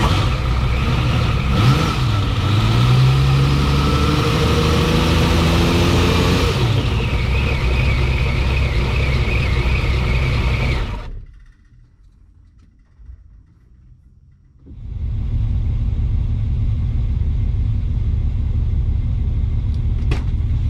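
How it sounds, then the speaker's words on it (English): Ferrari 365 GT 2+2 V12 with a power loss fault and a newly installed fuel pump, running with a loud, steady rumble, then cutting off into near silence before steady engine noise resumes. "I can actually start the engine and you can see it"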